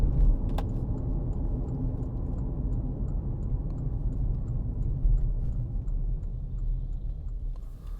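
A 2013 Porsche Cayenne 3.0 TD Tiptronic S AWD diesel driving through bends, giving a steady low road and engine rumble that stays even and continuous inside the cabin, with faint ticking above it and no talk.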